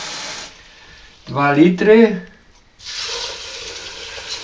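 Water pours into a container with a soft hissing flow at the start and again near the end. Someone speaks briefly in the middle while the water pauses.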